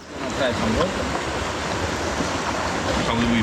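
A Balkan mountain stream flows in an even, broadband rush, close and constant, with faint voices and brief tonal sounds over the water.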